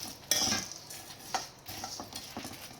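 Idli podi spice ingredients being stirred and sautéed in a pan, with a metal spoon scraping and clinking against the pan in irregular strokes, moderately loud and close, no talk.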